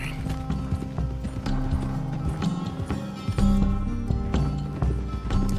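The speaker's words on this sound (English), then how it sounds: "Nothing like a good Shire horse." A Shire horse in the Western video game Red Dead Redemption 2 walks with rhythmic clip-clop hoofbeats. Tack jingles and rattles along with the hooves over a droning, tonal game soundtrack.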